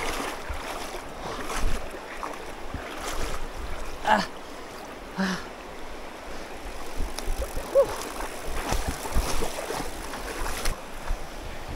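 River water splashes and churns in uneven bursts as a bicycle crosses a river, with broadband wash and occasional sharper sloshes, no voices.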